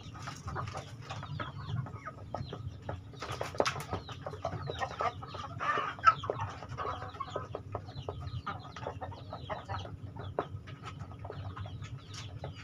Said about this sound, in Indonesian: Ini 4 babon, 1 pemacek, karena 1 babonnya lagi mengerang.